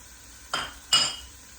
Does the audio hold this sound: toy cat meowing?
no